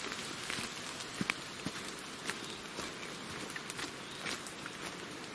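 Water dripping inside an old dug-out trench in the woods: scattered soft drips and taps at an irregular pace, faint and close, over a quiet damp background with no voices.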